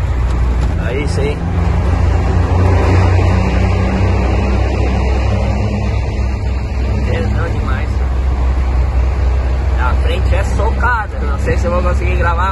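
A Volvo VM truck engine rumbles with a steady deep idle-like drone that stays loud and continuous throughout, overlaid with wind buffeting and some clicking sounds, while people talk over it.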